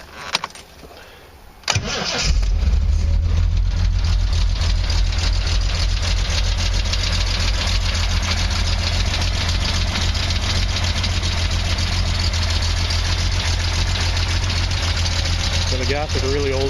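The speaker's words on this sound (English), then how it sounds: "I'll start it up and I'll give you a quick listen to the engine." A 1968 Triumph TR250 that sat outside all winter on old gas cranks briefly, then fires and settles into a loud, steady, rumbling idle heard up close for over ten seconds.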